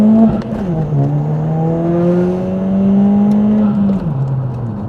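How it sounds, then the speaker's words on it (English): A VW Scirocco GT 1.4 TSI with a stage 3 tune and an OEM diverter valve runs at steady engine drone with a pitch dip and recovery as the throttle lifts, giving only a faint turbo flutter. "I think you can maybe hear a little bit of a turbo flutter going on when I let go of the throttle"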